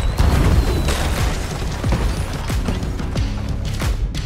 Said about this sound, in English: I think I've got a firework in this one.